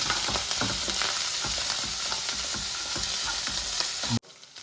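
Chicken with salt, chilli and ginger mixed in a hot oiled pan, giving a dense, continuous sizzle with repeated stirring scrapes close up; it drops off abruptly near the end.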